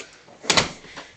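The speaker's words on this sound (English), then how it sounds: "We're gonna go in the front door." Someone opens the front door of a house with a brief pair of sharp latch clicks and a rattle in the middle of a quiet moment, close by, followed by a faint softer knock.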